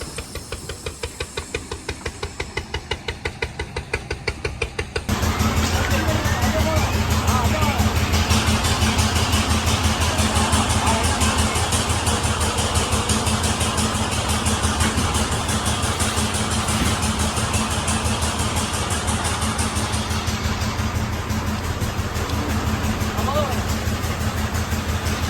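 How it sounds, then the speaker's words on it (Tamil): A truck engine being driven onto a workshop lift: a low idle that suddenly swells into a loud, steady, close diesel roar held for the rest of the stretch, with voices talking beneath it. "வண்டி அங்கே லிஃப்ட்டு கொண்டு போகலாம்."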